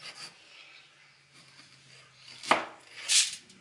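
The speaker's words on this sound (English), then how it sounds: "Take a knife. We're going to make three slits down them." A knife scores slits into freshly cleaned whole potatoes: two short, crisp cuts close by, the second slightly longer, over a faint background hum with no talking.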